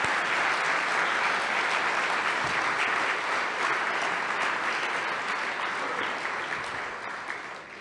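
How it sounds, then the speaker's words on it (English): Conference keynote crowd applauds the event's sponsors with sustained, dense clapping that holds steady and loud for several seconds before slowly tapering off. "We have a round of applause for our sponsors"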